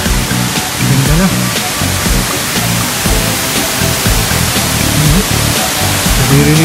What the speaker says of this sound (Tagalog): Yung bagsak ng tubig, naririnig niyo po siguro.